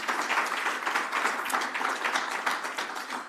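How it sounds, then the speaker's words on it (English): A conference audience at a construction contracts users' event applauds sponsors, steady dense clapping filling the whole stretch at an even, moderately loud level with no talk over it. "We can give them a round of applause."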